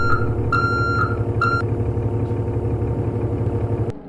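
A transit bus backs up with its reversing alarm beeping loudly and repeatedly at a steady rhythm over the low, constant rumble of an idling diesel engine; the beeping stops and the engine continues alone.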